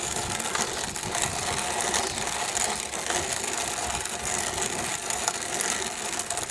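Hand-cranked grain mill grinding blue Hopi corn into cornmeal outdoors, a steady gritty rasping and clattering churn that runs continuously throughout, fairly close, with wind noise and no talking.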